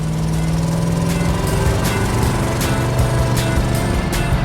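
A 1971 Plymouth RoadRunner's engine runs steadily close by, a loud, continuous rumbling idle with rhythmic pulsing throughout, and no voices over it.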